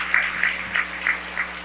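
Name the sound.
audience applause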